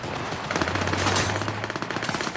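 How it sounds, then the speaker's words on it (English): Rapid automatic gunfire from the video game Cyberpunk 2077, dense bursts of shots rattling continuously for a couple of seconds with a low steady hum underneath. "Who the fuck is shooting?"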